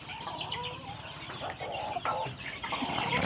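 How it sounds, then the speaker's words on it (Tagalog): Free-range backyard chickens cluck and chatter close by in a busy, overlapping flock, with a faint crow-like call in the mix and no speech. "Tanawa po ninyo ang ato naka free range nga mga manok"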